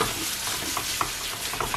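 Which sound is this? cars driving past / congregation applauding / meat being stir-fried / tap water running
meat being stir-fried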